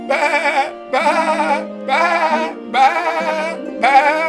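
A sheep bleats loudly and nearby in five drawn-out, wavering calls with short pauses between them, with no talk over them.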